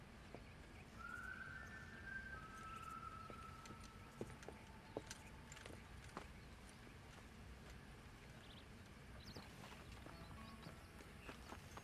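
Hooves of a herd of horses in Red Dead Redemption 2 clop along in a steady, soft patter, with occasional sharper knocks over a constant background hum.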